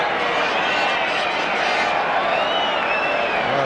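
A stadium crowd at a 1975/76 QPR versus Leeds football match roars, with whistles rising faintly through the dense, continuous noise, and a commentator's voice underneath.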